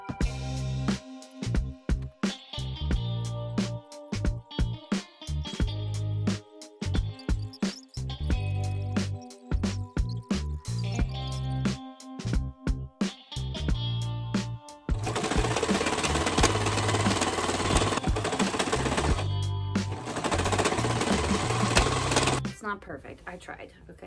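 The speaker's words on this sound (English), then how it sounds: "So I need to sew that panel together." Domestic sewing machine stitching two curtain panels together, starting with short bursts of stitching broken by pauses and talk, then a sustained, loud continuous whirring run near the end.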